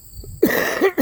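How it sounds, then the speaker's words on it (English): A man with a lingering cough from a bug coughs outdoors in a garden, a quick burst of two or three harsh throaty coughs, close and fairly loud. "Still have a little bit of a cough"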